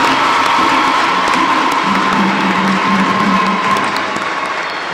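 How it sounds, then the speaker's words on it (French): A Catholic congregation in Chad cheers and applauds the newly confirmed at a confirmation Mass, a loud, sustained crowd roar of clapping, shouts and whoops at full level throughout. "applaudissons les nouveaux confirmants"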